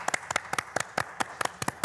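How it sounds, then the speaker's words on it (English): Sparse clapping from a small group at a Christmas awards gathering, a handful of hands producing distinct, evenly spaced claps with no crowd roar behind them. "So, a healthy round of applause."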